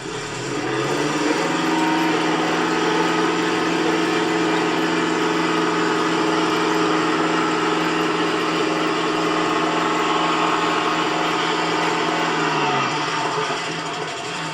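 A 1/6 scale Armortek M26 model tank with gears engaged accelerates outdoors, its motor and drive rising into a steady whirring hum that holds for several seconds and then winds down, close by and alone.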